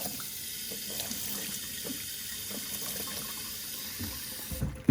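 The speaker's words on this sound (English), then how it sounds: "Then run it under some cold water." A cord is held under a running cold-water tap, giving a steady, faint, close hiss of flowing water with slight splashing changes. A sharper clatter comes right at the end.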